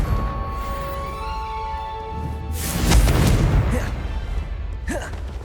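A Confringo fire spell goes off in the Hogwarts Legacy video game, a loud booming blast that swells up midway and then rolls off into a long rumble over a low background hum.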